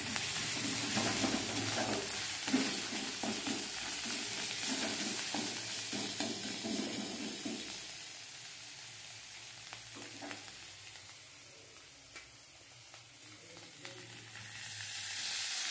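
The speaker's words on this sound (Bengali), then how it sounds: "এরপর মশলাটা আমি নাড়তে থাকবো।" Spice masala with garlic paste fries and is stirred in a pan for a Bengali egg curry, a steady close sizzle with rhythmic spoon scrapes that thin out in the second half.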